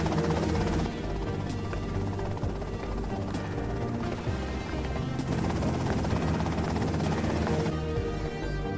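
A helicopter in the video game GTA Vice City gives a loud, continuous rotor chop with a dense engine drone, sustained and close throughout with no talk.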